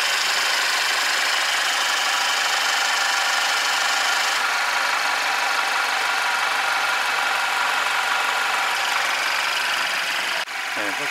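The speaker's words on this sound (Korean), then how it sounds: "확실히 고압펌프 때리는 소리가 좀 나죠" Steady close idle from a Mercedes W213 E200 direct-injection four-cylinder petrol engine, its high-pressure fuel pump ticking lightly through the even hum, with a short shift and dip near the end.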